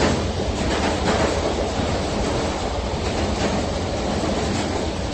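A passenger train rolls along the rails in a loud, steady rumble with faint rhythmic clatter, a continuous interior ride noise with no talking.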